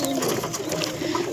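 Pigeons squabbling in a row of nesting boxes, with low throaty cooing and rustling scuffles close by, continuous over a short stretch.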